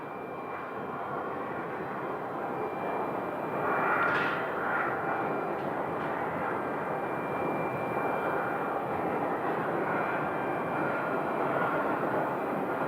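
A jet airliner arriving on the runway at Phoenix Sky Harbor airport, a loud, steady engine roar with a rising whine, heard alone.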